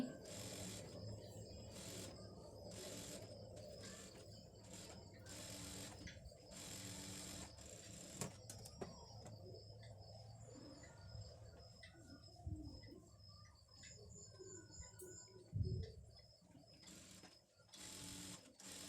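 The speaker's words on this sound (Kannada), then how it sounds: "ಈ ರೀತಿ ಸುತ್ತ ನೀಟಾಗಿ ಹೊಲ್ಕೋತೀನಿ ಇದನ್ನು" A sewing machine stitches a blouse lining in repeated rapid bursts of needle whirring separated by short pauses, with quiet background sounds and some faint bird calls in between.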